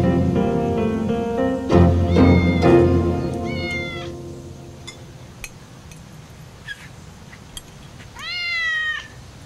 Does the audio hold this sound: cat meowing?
yes